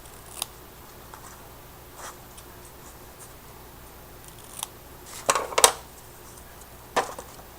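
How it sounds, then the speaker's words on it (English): Scissors trim the ends of washi tape on a small treat box, with several light scattered snips and a quick cluster of louder close cuts, all quiet and without talk. "And then I just trim off the ends."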